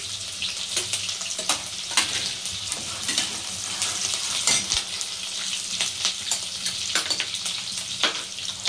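Chopped green chilli, cumin and mustard seeds sizzle in hot oil for a Maharashtrian kanda poha, a bright steady crackle and spatter with occasional pops and light stirring, close and continuous.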